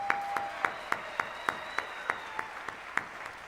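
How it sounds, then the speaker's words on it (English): Inauguration ceremony applause heard as a regular series of sharp, evenly spaced claps over a thin bed of quieter crowd clapping, with a faint tone lingering in the background. "I'm going to applaud them."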